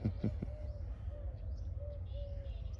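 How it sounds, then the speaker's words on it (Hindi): Pigeons cooing at a feeding and water spot, a soft repeated coo recurring every half second or so over steady low background noise, with a few brief chirps near the start. "चिड़िया बहुत ज़्यादा है आज।"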